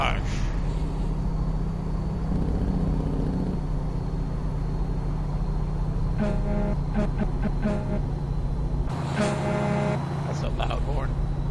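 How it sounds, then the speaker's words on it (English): A train horn fitted to a truck in American Truck Simulator sounds in two loud, sustained blasts a few seconds apart, over a steady low engine drone. "Because I've never had the train horn before."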